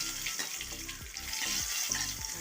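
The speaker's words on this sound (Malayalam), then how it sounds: "ചൂടായിട്ടുണ്ട് കുറച്ച് എണ്ണയെ ഒഴിച്ചിട്ടുള്ളൂ" Hot oil sizzles in a pan for a fish curry, a close, steady crackling hiss with faint scrapes under it.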